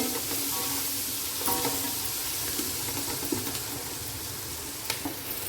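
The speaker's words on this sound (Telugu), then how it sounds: "ఈ ఆనియన్స్ లైట్గా వేగాలి మనకి" Onions seasoned with salt fry lightly in a pan, giving a steady soft sizzle with scattered small clicks and pops of stirring throughout.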